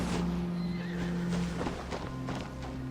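A horse in a samurai-era video game whinnies loudly and close, with hoofbeats clopping underneath across a few seconds.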